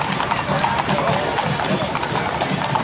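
Horses' hooves clip-clop in an ongoing rhythm during the 2024 Cabalgata de la Amistad horseback parade in Yautepec, mixed with crowd noise and someone talking loudly throughout.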